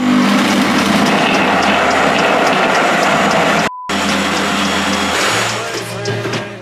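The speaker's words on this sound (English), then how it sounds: "Top that off with some water, and it's time to blend." A blender whirring through chia seeds, honey and water, a loud, close, grinding motor roar that runs continuously, cuts out for a split second, then resumes and settles to a lower steady spin.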